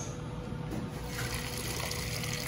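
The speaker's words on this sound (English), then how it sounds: "I get the water right here." Water pours into a large cup from a self-serve drink dispenser at a cinema, making a quiet, steady trickle and rush that continues without a break.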